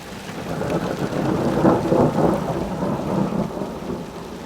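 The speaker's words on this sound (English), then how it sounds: "but the sound of the thunder" A low rumble of thunder rolls on continuously, heavy and close, with rain hissing steadily underneath.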